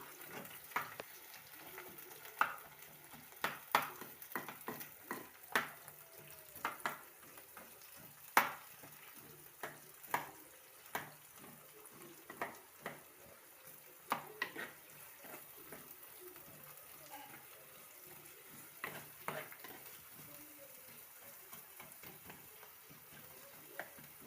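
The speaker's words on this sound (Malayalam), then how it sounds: "നന്നായിട്ട് നല്ലവണ്ണം ഒന്ന് ഇളക്കി കൊടുക്കാം." Food in a pan with tomato is stirred over a quiet low sizzle, with repeated soft scraping and tapping strokes spread irregularly across the whole stretch.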